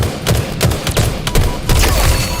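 Loud, dense bursts of gunfire fill a Halo matchmaking game, with rapid irregular shots and thuds layered over a constant rumble of battle noise, with no talk.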